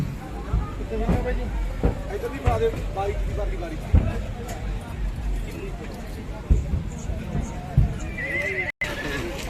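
A decorated show horse at a village horse fair, whinnying and stamping with clip-clop hoof thuds close by, under a busy crowd murmur and a nearby voice talking.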